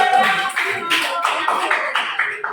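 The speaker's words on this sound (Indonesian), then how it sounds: "Kita tepuk tangan ya." Scattered hand claps from a small group in a classroom after a student group's presentation, with uneven sharp bursts that taper off over a couple of seconds.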